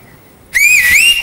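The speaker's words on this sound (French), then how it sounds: "Est-ce que vous avez sifflé avec vos doigts?" A sharp, loud finger whistle from a person in a French TV talk-show studio, rising and wavering in pitch, held for about half a second after a brief quiet start.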